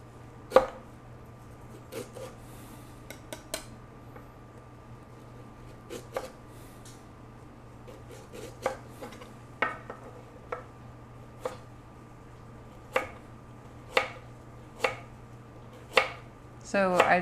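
Knife slicing vegetables into rounds and then strips on a cutting board for a summer salad, sharp irregular chopping taps spaced out and growing quicker toward the end, close and clear over a steady kitchen hum.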